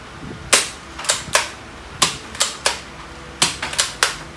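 A Nerf blaster with a revolving barrel is fired repeatedly, giving about a dozen sharp plastic clacks in irregular bursts, close and crisp against a quiet background.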